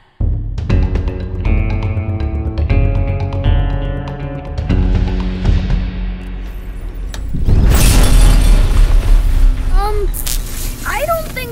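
Tonal music plays, then a loud, crackling burst of cannon blasts hits a shield in a dense rush, trailing into warbling electronic zaps.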